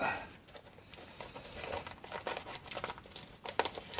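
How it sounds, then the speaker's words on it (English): Masking tape peeled and crumpled off a freshly painted vintage GMF bench grinder, close-up crinkling and tearing bursts in an irregular rhythm, no talking. "I'll just remove some of this masking tape"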